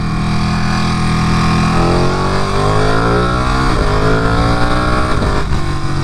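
Ducati Panigale superbike revving hard through city streets, the engine climbing and falling in steady rising sweeps, loud and close with a continuous high-pitched drone.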